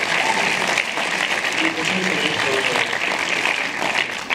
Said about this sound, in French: Non mais applaudissez-vous parce qu'on n'en revenait pas